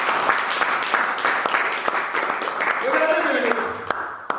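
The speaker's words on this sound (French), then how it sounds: "Acclame Jésus," A church congregation clapping and applauding steadily, with a voice speaking over the crowd noise.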